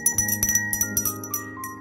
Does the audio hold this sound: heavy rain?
no